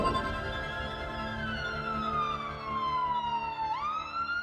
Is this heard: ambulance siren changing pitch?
yes